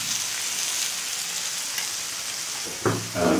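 Food frying on a tabletop grill gives a steady close sizzle throughout, with a couple of louder bursts of crackle near the end.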